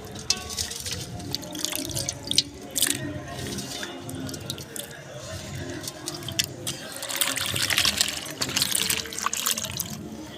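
Cut mural fish is washed by hand in water, with continuous splashing, sloshing and dripping that swells louder toward the end, and a voice talking at times over it.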